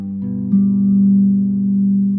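Plucked bass guitar notes: a low note followed by its octave, ringing out together as a sustained, steady tone, close and clear.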